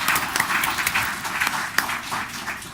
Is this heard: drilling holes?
no